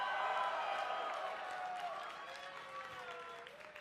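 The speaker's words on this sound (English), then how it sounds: "can we get a cheer for Leona?" A live crowd at a League of Legends esports event cheering and whooping in a dense roar of voices that slowly fades over a few seconds.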